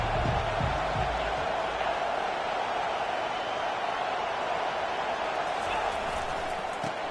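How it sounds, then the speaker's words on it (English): Stadium crowd at an Oklahoma versus Auburn college football game, a steady roaring wall of crowd noise filling the stadium throughout, with a few brief thumps near the start. "This crowd bringing an ear-splitting welcome to their visitors."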